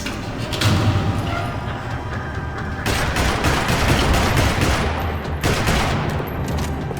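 Rattling gunfire echoes through a parking lot in Max Payne 3, bursts of rapid shots and heavy thuds repeating loudly across the whole stretch with brief lulls between volleys.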